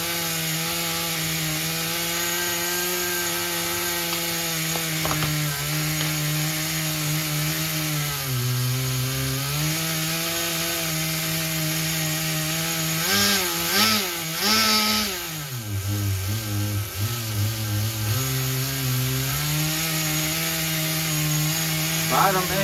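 A nitro RC engine idles and revs during carburetor tuning, its buzzing drone steady with wavering pitch, rising in short blips and dipping as the mixture is adjusted, loud and close throughout.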